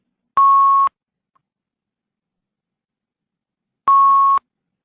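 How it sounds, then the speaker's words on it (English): Two identical sharp electronic beeps, each about half a second long and a few seconds apart, sound alone during a video conference call with no other noise between them. "So we're getting a beeping from somebody."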